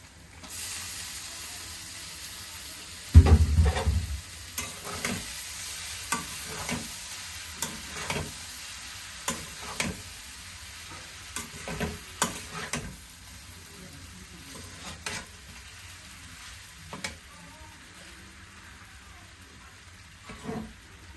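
Boiled noodles and pasta are stir-fried in a pan, with a soft sizzle under repeated scraping and stirring strokes, a louder clatter near the start, then irregular quieter stirs.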